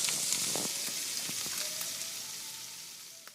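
Frittata of eggs, sausage and onions cooking in a skillet over low heat gives a soft, even sizzle with a few light pops and faint clicks, close and gently fading.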